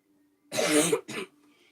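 A single harsh cough close by, followed by a shorter second cough, with near silence around them.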